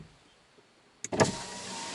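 A one-touch electric window on a VW Parati runs on its own after a quiet pause, a sudden motor whine with a click at the start that carries on steadily close by, with no talking.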